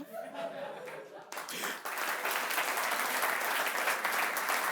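An audience applauds, starting with a few scattered claps over faint talk and then swelling into full, steady clapping that continues loudly to the end.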